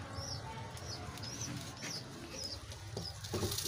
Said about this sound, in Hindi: सारे कबूतर नहा रहे हैं।